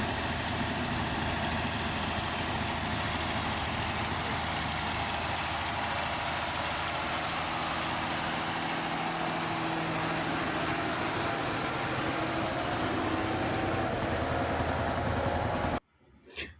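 A tractor fitted with a high cab idles steadily at a constant mid-range rumble with a faint knocking edge, running alone for about sixteen seconds before cutting off abruptly near the end.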